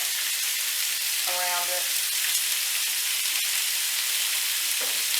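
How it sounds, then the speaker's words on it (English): Pork loin strips fry fast in a hot pan, giving a steady, close sizzle and crackle throughout, with a short spoken voice over it and a brief tonal beep near the start. "So the point of this is to fry it kind of quickly so that it gets a golden color"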